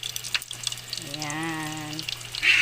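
Homemade empanadas fry in a pan with a steady low crackle and sizzle, while a brief duck-like honking call stands out in the middle and a burst of hiss comes near the end.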